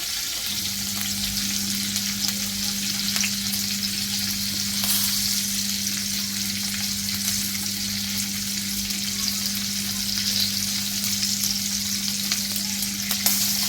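Chilies hit hot oil for a Konkan-style kulith (horse gram) amti and sizzle steadily and close. The frying hiss runs without a break over a constant low hum, with no talk.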